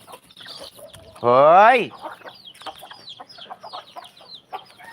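Hens cluck here and there around a garden at feeding time, soft and scattered beneath people talking, with one loud rising shout partway through.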